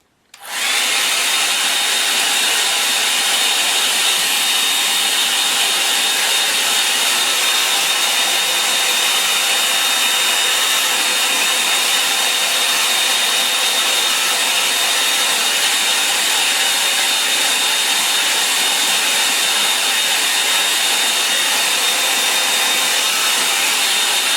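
A hair dryer blasts air over wet watercolour paint, switching on abruptly and then running loud and steady, close by and alone, for the full length without pause.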